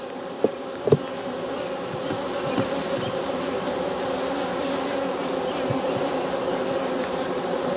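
A dense, steady drone of many honeybees buzzing close by at an open hive during frame inspection, continuous throughout, with a couple of sharp knocks near the start.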